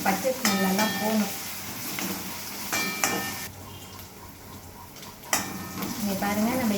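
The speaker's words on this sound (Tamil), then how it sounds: "நம்ம இஞ்சி பூண்டு பேஸ்ட்டு போட்டு வதக்கணும்" Ginger garlic paste and onions sautéing in a pan, with a steady sizzle, repeated scraping and clinks of a spatula stirring against metal, and a short quieter pause in between, all up close.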